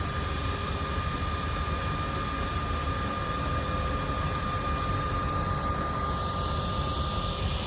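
Biomass boiler with its fan turned up to push more air through the fines, a loud, constant whirring roar carrying steady high tonal whines throughout, with no talking.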